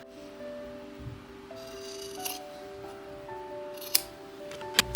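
Scissors snipping through the fabric of a quarter-zip sweater, quiet and close, with a few small sharp clicks and faint clinks over a steady background hum.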